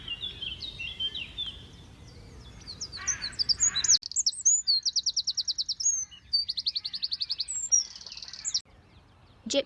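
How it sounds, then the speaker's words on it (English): Bright, rapid willow warbler song repeats close by at dawn on a heath, trilled runs of high notes over a quiet background, with a few softer chirps early on. "Willow warblers are among the loudest."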